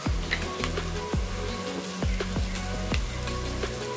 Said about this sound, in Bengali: এবার আমি 3 মিনিট মতো ভেজে নিব।